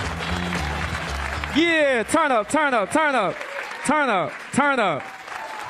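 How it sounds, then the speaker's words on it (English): A comedy club audience claps in a brief broadband burst at first, then a voice shouts repeatedly in loud, sliding whoops that dominate the rest of the moment. "You're still clapping"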